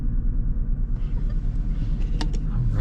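Twin-turbo V6 of a 2021 Nissan GT-R rumbling steadily from inside the car, a continuous low engine and exhaust drone throughout with a few faint higher clicks near the end.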